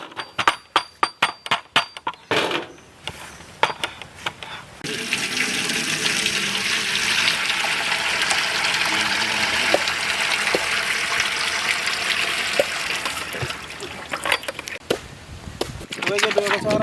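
Rambutan juice drains and pours in a steady, continuous stream during outdoor village cooking, after a run of sharp clinks and chops, with people talking over the flowing liquid.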